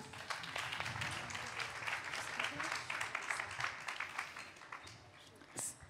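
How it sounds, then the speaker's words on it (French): An audience at a forum event applauding, a faint, dense patter of many hands clapping that continues steadily for several seconds, with speech mixed in underneath. "on peut les applaudir"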